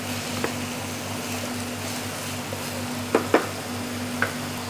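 Vegetable pansit with vegetable stock cubes stirred in a pan, a soft steady sizzle with a few sharp clinks of the utensil against the pan.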